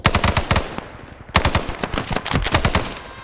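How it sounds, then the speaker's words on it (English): Rapid automatic gunfire in a military video game, dense bursts of shots with a brief lull before firing resumes loud and close, including the shot that lands a headshot. "Oh, and there's the headshot."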